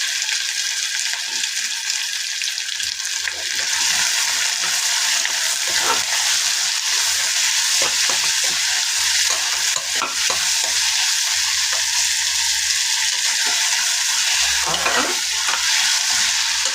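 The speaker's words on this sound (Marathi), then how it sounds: "कांदा आपल्याला चांगला परतून घ्यायचा आहे" Chopped onion sautéing with curry leaves in a pan, a loud continuous sizzle throughout with occasional scraping stirs of a spoon, no voices.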